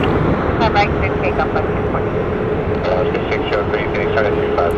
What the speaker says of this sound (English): WestJet is now taking the runway